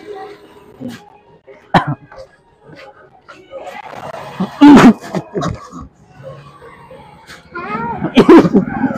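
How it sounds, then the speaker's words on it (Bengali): A few sharp, close coughs break out between stretches of someone talking. "আর কাশি হচ্ছে আমার, খুব কাশি হচ্ছে, খুব কাশি হচ্ছে গো"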